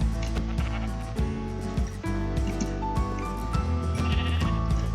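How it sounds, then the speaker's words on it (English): Sheep in the Minecraft video game bleat repeatedly and loudly, several overlapping calls in quick succession over busy game sounds and music. "I need sheep for beds."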